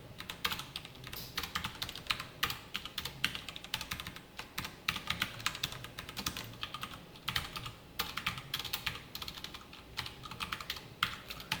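C code being typed on a computer keyboard in a steady run of close, rapid key clicks with short pauses between bursts, no talking.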